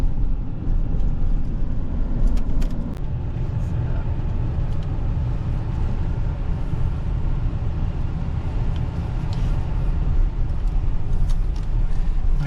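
A vehicle driving through the lakeside RV campground gives a steady low engine and road rumble that runs the whole way, close and even, with a few faint knocks and rattles on top.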